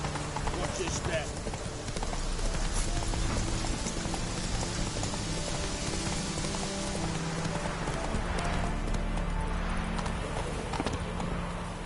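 Horse hooves clip-clop in a steady galloping rhythm in a video game, loud and continuous with rain-like ambience, while someone talks over it.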